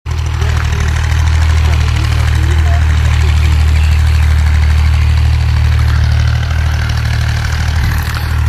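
A tractor engine runs steadily in a village, a loud, close, continuous low rumble with a knocking idle throb that holds for the whole stretch.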